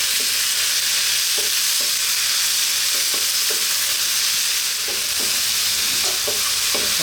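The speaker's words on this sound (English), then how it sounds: "What we're going to do now is that tomato, chopped nice and small. Just going to stir this in for like 2 minutes." Chopped tomato being stirred into spiced potatoes frying with cumin in a pan, a steady sizzle under scattered scraping stirs, close and fairly loud, with no talking.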